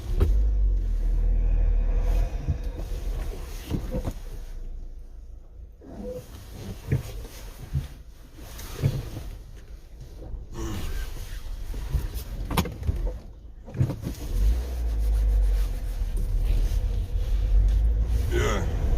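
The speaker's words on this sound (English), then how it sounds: "People are doing some mad driving out here." Cars rumble past on a busy, freezing street, with swells of passing traffic rising and fading, while someone talks over them close by.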